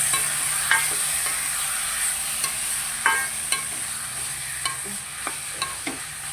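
Chicken pieces going into a simmering chicken curry pot, with a steady bubbling sizzle and a few soft knocks and stirring scrapes, close and unaccompanied by talk.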